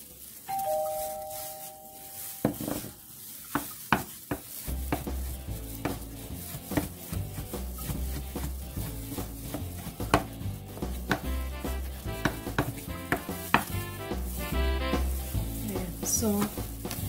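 A knife chops beef dumpling filling finely on a board, brisk repeated sharp thuds at a quick, fairly even rhythm after a brief chime at the start, with faint kitchen sizzle beneath.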